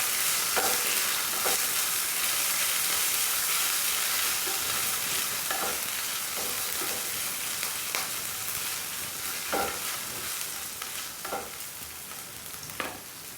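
Ginger and cumin seeds frying in a pan, a steady broadband sizzle with occasional soft stirring scrapes and clicks, close and continuous without talk.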